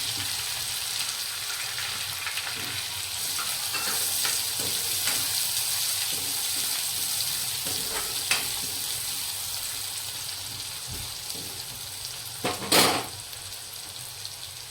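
Chopped onion fries in oil with green chili, garlic and ginger paste, giving a steady close hiss of sizzling throughout, with a few soft stirring scrapes and a brief louder clatter near the end.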